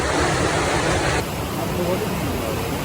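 Rushing water of Aras Waterfall on Uludağ fills the air as a steady broadband roar, louder at first and dropping slightly partway through, with no clear voices.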